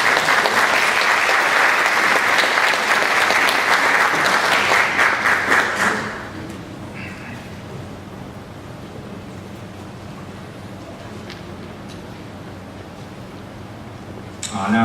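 Dense applause from a church congregation during a revival service, loud for about six seconds before stopping abruptly, leaving quiet room tone.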